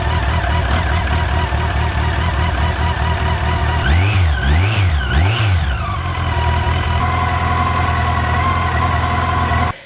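A Yamaha FJR1300 1300cc motorcycle that has not been started in a while idles as it warms up, a steady close engine rumble rising in three quick throttle blips midway before settling back to a smooth idle.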